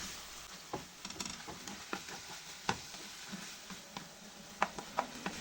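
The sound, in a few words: stirring musakka ingredients together in the pan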